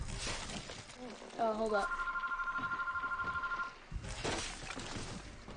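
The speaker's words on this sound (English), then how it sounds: "Sorry about the phone in the background." A phone rings in the background of a room with a fairly loud electronic warble lasting a couple of seconds, while someone talks over it.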